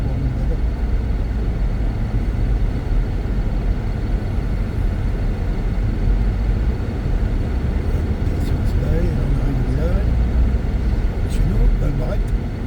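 A Honda car drives along a rural road near Val-Barrette, heard from inside as a loud, constant low engine and road drone, with a voice talking over it.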